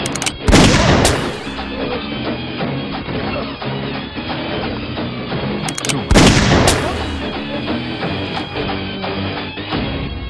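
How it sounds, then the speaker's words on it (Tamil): Gunshots from a police pistol in a Tamil action game, two loud sharp blasts several seconds apart, each trailing into a ringing echo over a dense backdrop of music and effects. "சோ ஃபர்ஸ்ட் நான் சுட போறது கணேஷ்."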